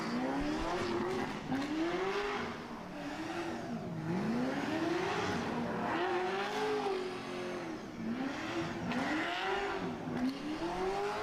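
A drift car competing at the Emirates Drift Championship, Round 4 on the YMC F1 track, its engine revving up and down in repeated loud surges over continuous tire noise.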